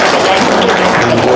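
Audience applause at a spiritual guidance talk: a dense, steady wash of clapping, loud and close, lasting about a second and a half.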